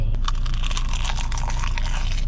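Crisp, crunchy bites into a crispy seafood snack, eaten near the mic with dense crackling and chewing that continues steadily throughout.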